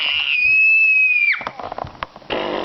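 A woman lets out a long, high-pitched squeal that holds steady and then drops off. Rustling and movement follow, then a burst of noise.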